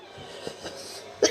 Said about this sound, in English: a blooming cough that I can't shift.